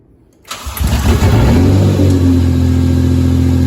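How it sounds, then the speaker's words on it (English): A swapped 2JZ-GE engine in a Nissan 240SX cranks briefly then catches and settles into a steady, close, loud idle with a deep rumble; no voices. "So we should be able to crank it and start it."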